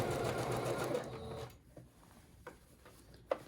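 A sewing machine back stitches while a thrifted dress is altered, a rapid mechanical whirring burst for about a second and a half followed by a few soft clicks and taps.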